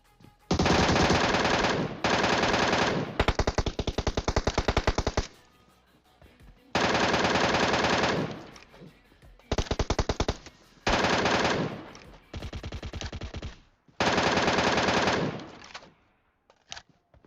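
Repeated long bursts of rapid automatic rifle fire from an MK weapon in PUBG, loud and close, separated by short gaps of quiet.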